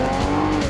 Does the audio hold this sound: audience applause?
no